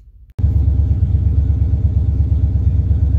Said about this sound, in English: let me go ahead and crank the car up and get it running